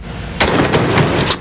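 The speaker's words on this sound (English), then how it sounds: "Gunshots shatter the morning quiet in Redwood City, California. Police officers firing blanks" Police officers in Redwood City, California fire blank rounds: a loud, close burst hits sharply and rings into rolling echoes, with further reports following in quick succession over about a second.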